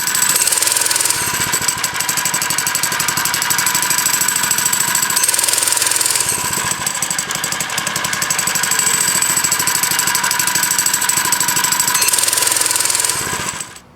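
A 4-stroke engine on a motorized bicycle fires up and runs with a loud, rapid, rattling putter, holding steady for several seconds with slight surges before shutting off abruptly.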